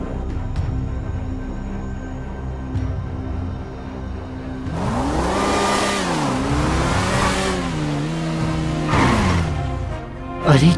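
A motorbike engine revs in the Free Fire video game, starting abruptly after a quiet stretch, then swelling and dipping through several loud rising and falling sweeps with a sharp burst at the end.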